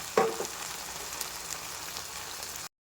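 Tomatoes sizzling in hot oil in a pan while a fish mustard curry cooks, a steady close frying hiss with a brief louder crackle as they hit the pan, and no talking.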